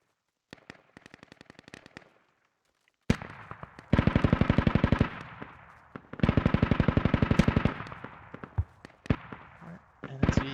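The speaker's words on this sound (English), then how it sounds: "NSV is firing." An NSV heavy machine gun fires in the video game Squad: a short burst, then two long, rapid, loud bursts and a few shorter bursts, with gaps of near silence between them.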